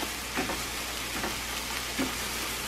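Eggs for a low carb omelet sizzle softly in a pan, a faint steady frying hiss broken by a few light scraping strokes of stirring, no talk.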